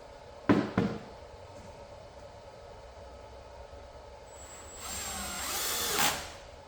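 A power drill drives screws into a sliding glass enclosure panel, with two quick short bursts early, then a longer rising whir near the end, fairly close.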